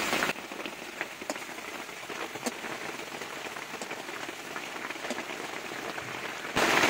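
Steady rain falls outside, a dense even hiss of drops on surfaces with scattered louder patters, continuous and moderately near, no one speaking.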